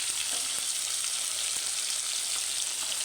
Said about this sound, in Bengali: আর এ সাইডে পটল রান্না করার জন্য মাছটা ভেজে নিচ্ছি।